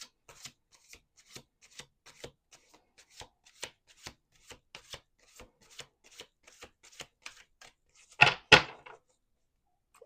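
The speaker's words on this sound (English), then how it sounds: "Let's do two more shuffles." Tarot cards shuffled by hand in a quiet room, a steady run of soft, crisp riffling ticks and rubs, ending in two louder close flicks near the end, no talking.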